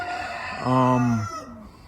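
Racing pigeons in a loft with breeding on their mind give a single deep, drawn-out cooing call, moderately loud and close, with low background hum.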